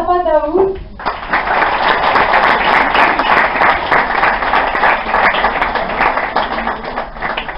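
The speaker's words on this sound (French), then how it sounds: "Et maintenant, l'équipe gagnante, on les applaudit bien fort." An audience applauds the winning team at a French-language school debate evening, a dense, steady burst of clapping that starts after a short spoken phrase and carries on loudly for several seconds.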